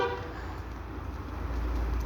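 A car horn toots over the low rumble of a nearby road vehicle arriving in a village, a steady tone held for about two seconds with traffic noise underneath.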